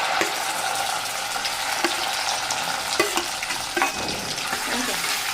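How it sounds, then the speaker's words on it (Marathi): Spice masala frying in oil for a Maharashtrian egg curry, a continuous close sizzle broken by several sharp stirring scrapes spaced across the stretch, with no voices. "हे बघा आपला एकाच मिनटामध्ये असा मस्त मसाला फ्राय झालेला आहे"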